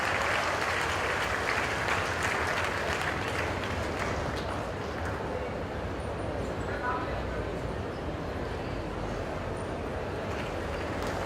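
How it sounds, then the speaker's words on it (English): An audience at a convocation ceremony claps in steady, dense applause that runs unbroken and loud for the whole stretch. "A huge round of applause for them."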